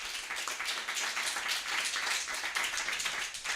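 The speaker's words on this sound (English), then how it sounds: "please give me a round of applause to introduce Lauren Coulman" An audience at a women-of-the-year business event applauds, a dense, sustained burst of many hands clapping at a steady level throughout.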